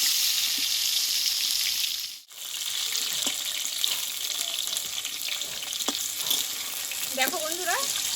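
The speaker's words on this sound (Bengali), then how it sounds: "আমি ধীরে ধীরে পটলগুলো ভালোভাবে কষে নেবো" Salted pointed gourd pieces fry slowly in a pan with a continuous close sizzle that briefly drops out, a few light stirring knocks, and a short stretch of voice near the end.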